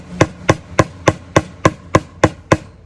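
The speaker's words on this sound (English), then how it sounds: "I took my hammer and my screwdriver, pushed it down as far as I could get it" A hammer strikes a screwdriver held against a pot to punch a hole, nine sharp metallic blows at a steady, even rhythm, loud and close with no talking.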